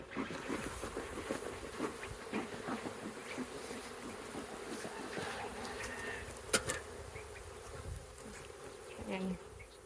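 Honey bees swarm and buzz around an open backyard beehive during an inspection, a dense steady drone of many wings close by, with brief louder passes of single bees near the microphone.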